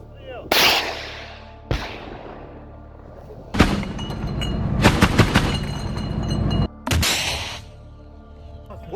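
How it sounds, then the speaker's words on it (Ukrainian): Several sharp rifle gunshots ring out at a military training ground, one alone, then a rapid cluster of loud cracks, followed by another blast, with metallic clinks between. "Постріл!"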